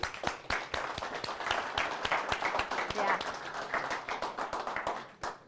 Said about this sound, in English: So huge round of applause and encouragement because they're here for you today